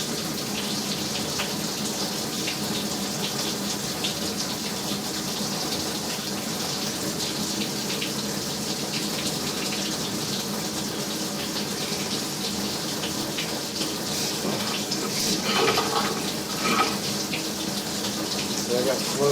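Water runs steadily through a pipe at a house on Alpine Place, a continuous broadband gush that holds an even level for the whole stretch and swells slightly near the end, with no voices.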